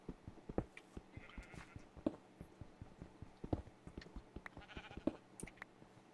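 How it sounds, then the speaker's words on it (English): Sheep in Minecraft bleat in short, repeated calls scattered over a rhythm of soft clicking footsteps, fairly faint and close, with no talking. "Get away! Get away, you sheep! So get away from me, you sheep!"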